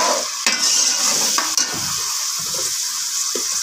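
Chopped onions frying and being stirred in a pan for spiced tinda and meat curry, with a steady close sizzle and a few sharp scraping stirs of a spoon against the metal.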